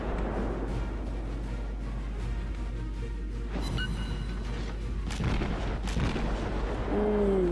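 Naval guns firing in the World of Warships game, a steady rumbling barrage of booming shots over a constant low engine drone, with a couple of sharper bangs near the end.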